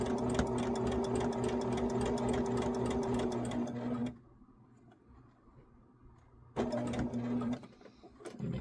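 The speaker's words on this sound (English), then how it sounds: "I'm going to go ahead and sew it" A sewing machine stitches a shamrock table runner, running in a fast steady mechanical chatter, stopping for a couple of seconds of near silence, then starting up again briefly before ending.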